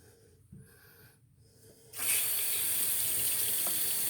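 A bathroom tap turns on to rinse a hand during a wet shave, a quiet pause with a soft knock giving way to a sudden steady rush of running water that continues strongly to the end.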